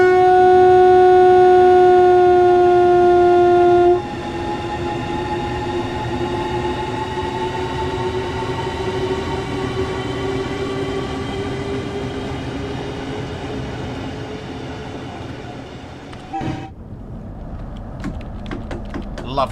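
A Class 395 train in Train Sim World 3 hums and whines as it runs, with rising electric motor tones over a rumble, loud and close throughout, then a clunk and a shift to rattling near the end.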